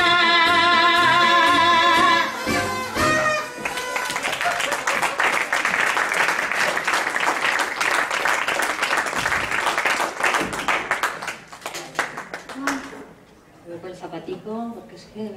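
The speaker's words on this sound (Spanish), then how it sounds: "Muchas gracias por sus aplausos hoy." A live crowd applauds at the comedy-music show El bardo escaldao after a sung tone, a sustained burst of clapping that fades toward the end, mixed with voices and laughter.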